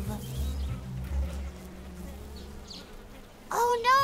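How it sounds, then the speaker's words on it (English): Bees buzzing close by near a hive, a steady insect drone over soft background music, with a brief voice near the end. "is that a bee? We must be sitting near a hive"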